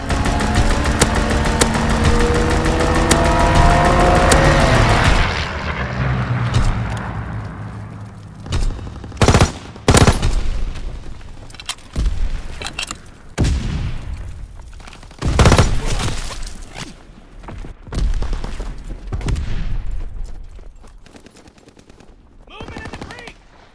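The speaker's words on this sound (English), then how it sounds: "Strafing the target." Aircraft machine guns strafe a target in the Call of Duty: WWII Ardennes Forest multiplayer map, starting with a long, loud sustained burst of rapid fire and followed by scattered shots and booms.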